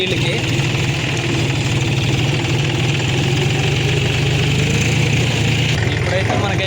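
A tractor engine, recently submerged in floodwater up to the engine, idles steadily with a low, continuous rumble and knocking vibration, close and loud throughout.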